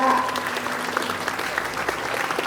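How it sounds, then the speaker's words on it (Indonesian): Applause from a crowd at a school flag ceremony for Pancasila Sanctity Day, a steady even patter of many hands filling the whole stretch. "Tepuk tangan dulu buat kita semua"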